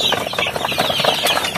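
Native chickens on a farm cluck in a busy, overlapping flock, close and fairly loud, with no talk over them.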